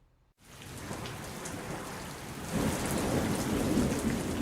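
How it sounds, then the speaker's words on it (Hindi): Heavy rain pours in Delhi as a dense, steady roar that starts abruptly after a brief silence, then swells louder midway with a deep rumble of thunder beneath the downpour. No one speaks. "दिल्ली में तेज बारिश हुई"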